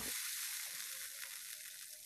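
Tomato teriyaki sauce bubbling in a pan gives a steady, close sizzle with a crackling texture and small popping bursts, continuous for about two seconds with no voices.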